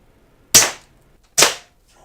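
A Classic Army CA870 airsoft shotgun fires two sharp, loud, close cracks about a second apart, each with a short decaying tail, in an outdoor can-shooting session, with no talking between shots.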